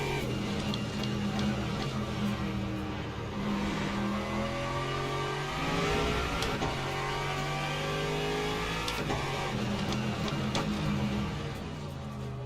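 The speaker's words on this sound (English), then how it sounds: "Hypercar coming up on us." Hypercar racing in the Le Mans Ultimate sim, engines revving and shifting through gears continuously with layered whines from several cars as one draws nearer, loud and sustained.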